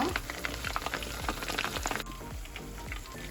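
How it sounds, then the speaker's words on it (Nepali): Pointed gourd (parwal) pieces fry in a pan of hot oil over medium heat, giving a continuous close crackle and sizzle with scattered pops. "मिडियम हिटमा यसलाई फ्राई गरेको छु"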